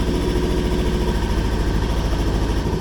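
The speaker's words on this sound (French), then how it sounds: "tu la laisses tourner entre 5 et 10 minutes au ralenti" A Rieju trail motorcycle engine idles steadily just after starting, a close, even low throb with a rapid regular pulse and no voices.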